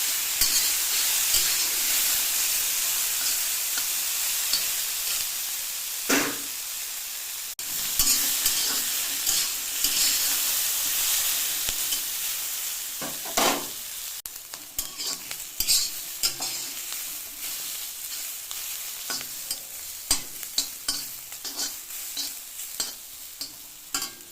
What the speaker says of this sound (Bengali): ভেজে নেবো, ঢাকবো না।